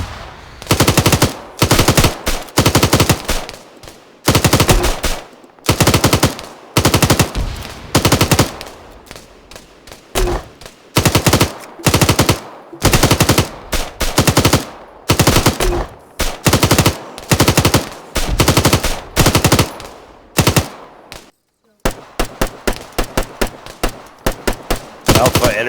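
Machine gun fire in the Arma video game: long, loud bursts of rapid automatic shots repeating one after another, ending with a faster string of short cracks.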